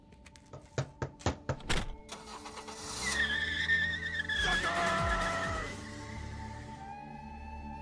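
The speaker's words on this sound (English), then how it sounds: "you can actually hear the sound of the ninjas getting to their Honda Civic and just peeling out" Car engine revving and tires squealing as a Honda Civic peels out, after several sharp thunks like doors shutting; a loud sustained screech rises and fades, with no talking.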